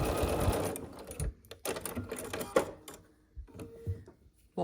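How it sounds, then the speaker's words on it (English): Short runs of a sewing machine join triangle quilt pieces along the edge, with quick stitching bursts broken by pauses and handling noises, fairly quiet and close with no talking. "And then we will sew across the edge here."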